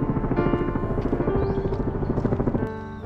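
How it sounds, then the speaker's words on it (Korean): Firefighting helicopters fly over a national arboretum in autumn, a steady loud rotor drone with rhythmic thumping that runs throughout and shifts in tone near the end. "어디서 산불이 발생했나봐요. 소방 헬기들이 바삐 움직이네요."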